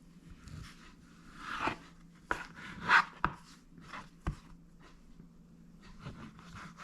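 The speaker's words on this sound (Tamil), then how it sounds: "இப்போ ஈக்குவல் துண்டாக வெட்டி எடுத்துக்கொள்ளுவோம்." Knife chopping pumpkin chapati dough into equal pieces on a board, a handful of sharp separate cuts at irregular intervals, close and fairly quiet, with no talking.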